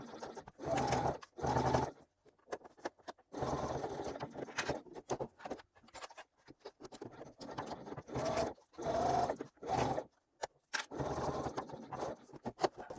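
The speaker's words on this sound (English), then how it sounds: "Basting the back first so that I can see where I'm going" Sewing machine running in short bursts while basting the back edge of an angled slip pocket, with quiet pauses between the stitching runs.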